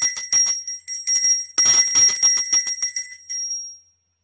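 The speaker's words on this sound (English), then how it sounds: "And then you ring the bell." A hand bell rings again and again in bright, rapid metallic strikes, loud and close, then rings out and fades to silence.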